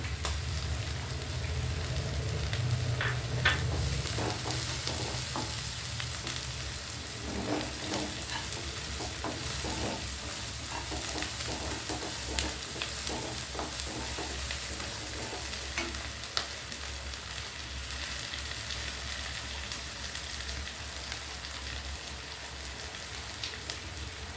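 Curry leaves sizzle and crackle in hot oil in a pan while coriander chutney is being cooked: a steady, fairly loud frying hiss with scattered sharp pops, continuous and with no talking.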